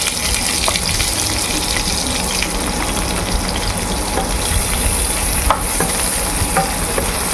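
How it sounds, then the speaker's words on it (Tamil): Loud continuous sizzling and crackling of onions sautéing in hot oil, with occasional scraping clicks of stirring, close up. "வதக்கிடுவோம் வெங்காயத்தை"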